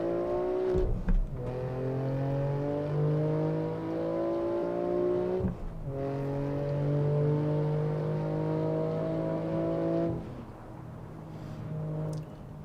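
A BMW engine driving in the racing game Assetto Corsa, a steady droning tone that climbs through the gears with brief dips at each shift, loud and continuous, with no talk.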